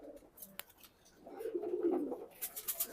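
Racing pigeons coo softly in a short low burr, fairly close, with faint rustling and a sharp click before it.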